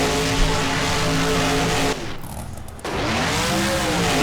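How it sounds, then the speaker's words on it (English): A monster truck spins a donut in BeamNG. The engine roars loud and steady, drops briefly midway, then surges back with a rising rev and tire noise. No one talks. "And the truck will go into a donut now."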